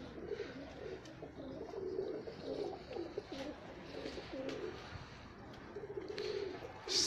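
Pigeons coo steadily at a rooftop pigeon loft, a continuous layered murmur of soft, throbbing calls from several birds at moderate distance, with occasional sharper flutters or knocks.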